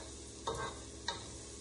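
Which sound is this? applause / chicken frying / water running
chicken frying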